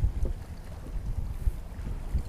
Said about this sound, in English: Please stop blowing me away from this spot, you stupid fucking wind.